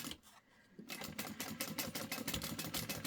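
A sewing machine runs at a 4.5 stitch length on a sling bag. After a brief pause it starts into a fast, steady, rapid-fire chatter of stitching, close and quiet.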